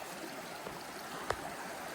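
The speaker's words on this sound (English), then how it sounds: "found another one of these microenvironment waterfalls." A small waterfall on a bend of a woodland creek, heard as a steady, soft, even rush of water with a brief knock partway through.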